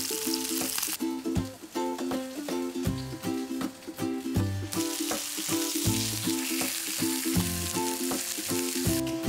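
Pork chops sizzling and crackling in a hot frying pan, a steady bright hiss heard close, with background music playing along.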